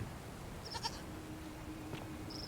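A goat in the video game The Forgotten City gives two short, faint, wavering bleats over a steady background hiss, with no speech.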